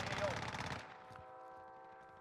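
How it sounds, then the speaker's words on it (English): A rapid burst of gunfire in Call of Duty: Modern Warfare, quick overlapping shots lasting under a second, then fading into a quieter tail. "Do you hear him shooting, Dora?"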